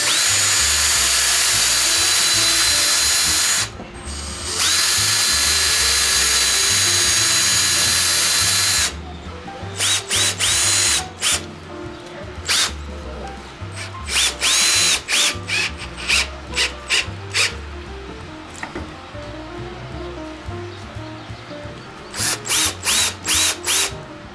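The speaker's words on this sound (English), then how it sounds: "I'm just going to go ahead and send a couple holes through there" A power drill bores holes through an RC rock-crawling teeter-totter for bolts. A loud, steady whine runs for several seconds, then breaks into short repeated bursts of drilling and clicking.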